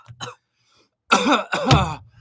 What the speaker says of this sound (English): if I had to judge by the sound of your breathing and coughing